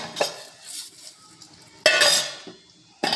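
Spiced rice with garam masala, salt, chilli powder, turmeric and ginger-garlic being stirred and fried in a pot for Rajula biryani, with metal spoon scrapes and clinks against the pot coming in a few sharp bursts, no talking.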